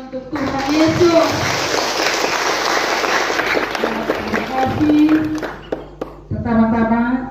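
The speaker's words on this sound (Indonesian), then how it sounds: "Berikan tepuk tangan untuk Tuhan Yesus" A crowd at a church revival gathering in Noetoko claps steadily throughout, while someone speaks over the applause and music tones sound near the start and end.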